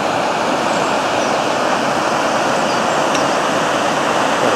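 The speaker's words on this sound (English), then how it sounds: "all that noise that you can hear in the background is rushing water" Rushing river water pours through a weir on the Hampshire Avon, a steady, loud, broadband roar that holds unchanging and close throughout with no voices.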